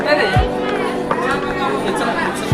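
A busy crowd chatters in line at a crowded Hindu temple, with many overlapping voices close around and no single voice standing out for long.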